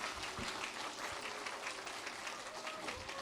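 Steady applause from a church congregation at an Easter service, dense and continuous clapping throughout at moderate distance.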